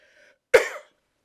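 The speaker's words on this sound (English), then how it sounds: "Excuse my cough." A single sharp cough, close and abrupt, preceded by a faint brief vocal sound and followed by silence.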